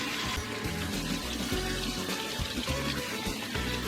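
Canned hominy being rinsed under a running kitchen tap, a continuous close splash of water with small clatters throughout.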